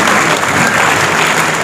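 Loud, steady applause from an audience at an award and honour ceremony, a dense wash of clapping with no break.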